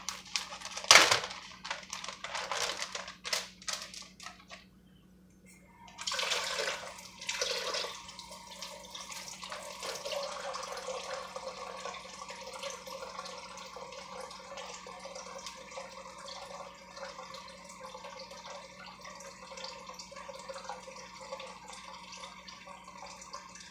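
Water poured into ziplock bags to make a pretend ocean, giving a steady close trickling and splashing pour after a few brief louder splashes and a short pause, with no talk over it.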